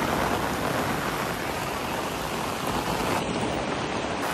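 Steady, dense rain pours down near a waterfall, a loud continuous hiss of drops on water and surfaces with no pauses and no voices.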